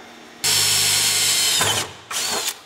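Power drill boring holes through sheet metal during Cleco fastener assembly, a loud steady high-pitched whine that starts abruptly, runs about a second and a half, then a short second burst.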